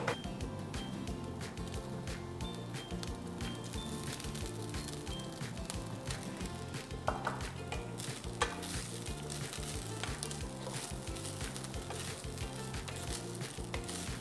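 Vegetable fried rice with Schezwan chilli paste stir-fried in a hot pan, giving a steady loud sizzle with rhythmic scraping and tossing strokes throughout, no talk.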